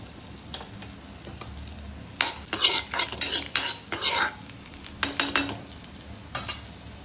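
Green chili, ginger and garlic fry in a pan for pasta, a low sizzle broken by bursts of brisk stirring and metal scraping in clusters, close up and without speech.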